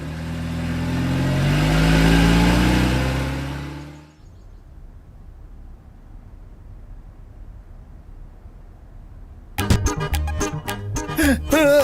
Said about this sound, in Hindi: ड्राइवर, गाड़ी निकालो।